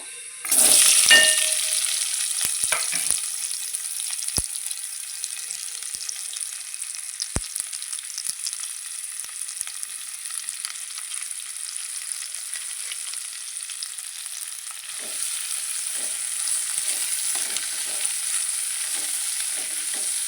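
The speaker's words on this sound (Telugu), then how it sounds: "ఈ ఉల్లిపాయలు ఫ్రై చేసుకోవాలండి ముందర" Onions fry in oil in a pan on the stove for tindora masala curry, a bright steady sizzle starting with a loud burst, then continuing evenly with occasional small crackles.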